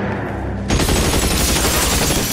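Heavy gunfire erupts in the LA Noire video game after a brief quiet stretch with low background hum, then a loud, dense barrage of rapid shots continues without pause to the end.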